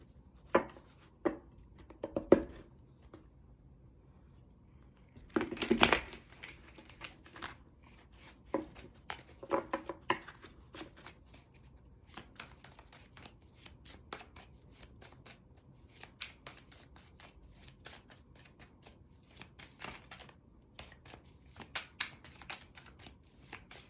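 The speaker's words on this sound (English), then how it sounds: "Let me do one more shuffle here." A tarot deck shuffled by hand over a long stretch, with repeated riffles and soft card slaps and taps at an uneven pace, close and fairly quiet, with no talking.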